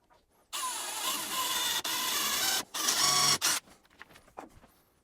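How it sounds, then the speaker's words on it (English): A small drill whirs in short bursts while boring a pilot hole into a wooden dowel through a door hinge's screw hole: a long run, a brief stop, then two more quick runs, before fading into light handling noises. "using a small drill bit and the screw hole on the hinge as a guide, make a pilot hole"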